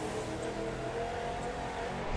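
A Cadillac Eldorado in The Crew 2 revs its engine at a race start, a loud, steady, close engine roar that holds without a break.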